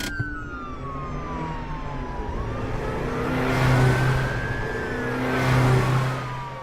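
A getaway car roars off in an audio drama as a police siren wails nearby, the engine revving up in surges while the siren's rising and falling tone sweeps across, loud and close.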